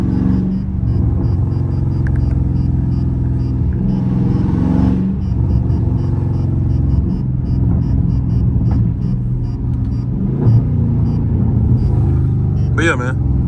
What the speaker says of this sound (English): Best sounding scat street POV drive